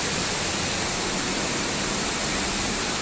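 An artificial waterfall in Singapore pours with a dense, steady roar of falling water, close and continuous with no break.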